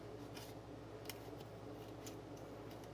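Sharp kitchen shears snipping off spiny tips, a handful of crisp, irregular clicks and snips over a low steady hum, faint and close.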